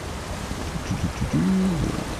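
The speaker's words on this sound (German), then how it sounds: "Da drüben ist noch Wasser." Steady flowing water murmurs through a continuous wash in an Elder Scrolls Online setting in Orsinium, with a brief tonal game effect rising over it midway.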